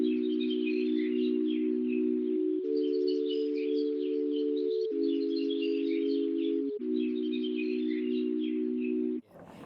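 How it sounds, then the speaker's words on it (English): Steady low air conditioner hum held as sustained tones that shift pitch in four sections, with dense bright birdsong chirping continuously over it, sampled and played like an organic-sounding instrument; loud, alone, ending abruptly. "what you hear here is the note of an air conditioner running with birdsong over it"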